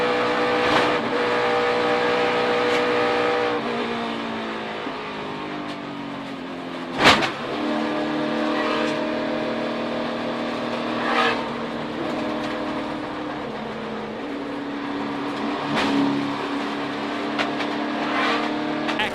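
NASCAR Cup Series race cars roaring past at Pocono, high engine whines rising and falling as they pass, with several sharp passes standing out over a constant distant field of engines.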